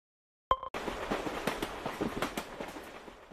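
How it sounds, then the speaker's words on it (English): A train in a children's transport learning game rolls along after a brief opening tone, with rhythmic clacking bursts over a steady rumble, moderately loud and continuous. "Train."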